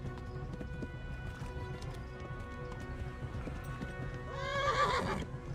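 Horse in the medieval game Kingdom Come: Deliverance whinnies loudly near the end over steady hoofbeats of a gallop, with background game ambience throughout.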